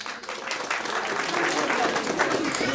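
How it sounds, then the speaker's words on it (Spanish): Wedding guests at a celebration in Apatug Alto applaud a contestant couple with dense, steady clapping that fills the whole stretch, a lively crowd close by with voices mixed in. "Aplauso para la pareja número 2"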